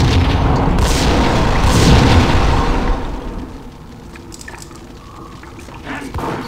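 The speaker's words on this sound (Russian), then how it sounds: "Реально был красивый взрыв." A big, booming building explosion in Max Payne with a rumbling roar for about three seconds, then fading into quieter crackling debris and scattered small pops.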